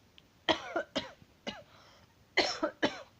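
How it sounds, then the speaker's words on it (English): A person coughs in two clusters of hoarse, rasping coughs, close and moderately loud, with quiet pauses between them. "my cough's back, which sucks"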